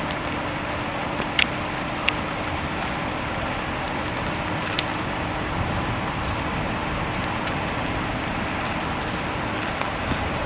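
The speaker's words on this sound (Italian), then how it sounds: "Adesso si arriva da di là la pioggia e la grandine purtroppo" Rain sweeps in as a tornado storm nears, with hail expected, a steady broad wash of falling water and wind noise, broken by a few sharp ticks and clicks.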